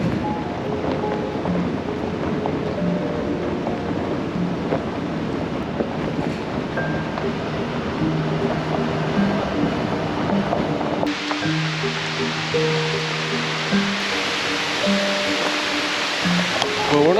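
Heavy rain downpour during truck camping with a Silverado 2500HD, a continuous loud hiss of falling water with wind rumble.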